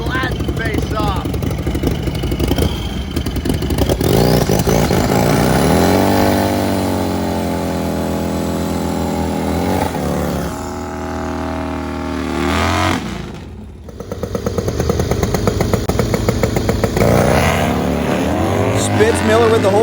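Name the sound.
Harley drag racing motorcycles racing down the drag strip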